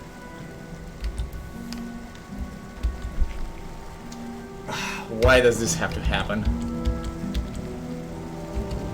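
Rain falling in the Gothic 1 game, a steady soft patter throughout, with a person talking over it in the middle and a brief louder burst of sound.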